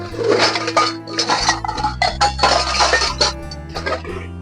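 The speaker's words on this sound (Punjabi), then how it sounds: "ਸਾਰੇ ਭਾਂਡੇ ਮਾਂਜ ਕੇ ਆਵਾਂ ਪਹਿਲਾਂ" Dishes and pots clink and clatter repeatedly at close range, with metallic rings and scraping in irregular bursts as they are scrubbed and stacked.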